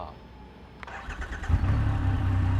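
A Triumph Rocket 3 R, a production motorcycle with one of the world's largest engines, cranks with a brief starter whirr and click, then catches into a loud, deep, rumbling idle close by.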